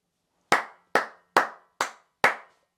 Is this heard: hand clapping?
yes